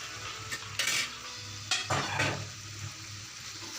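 Okra and prawns being stirred in a cooking pan, with a few scraping, clattering strokes of a utensil over a faint steady sizzle, close and fairly quiet with short bursts and pauses between them.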